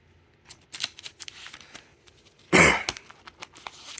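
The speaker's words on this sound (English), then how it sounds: "Sorry for the coughing." A single sharp cough stands out amid light rustling and small handling noises, close to the microphone.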